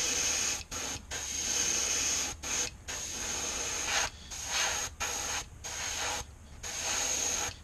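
An airbrush sprays transparent paint onto a fishing lure in repeated short bursts, steady close hissing broken by brief pauses, with no voices.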